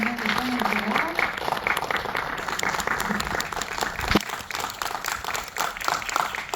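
A cinema audience applauds the director at a stage greeting for a film screening, with continuous dense clapping throughout, some voices mixed in, and a brief thump near the middle.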